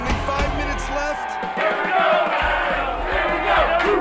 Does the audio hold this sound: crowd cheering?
yes